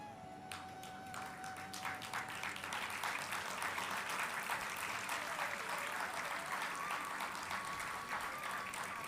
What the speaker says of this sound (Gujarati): તાળીઓના ગડગડાટથી વધાવીએ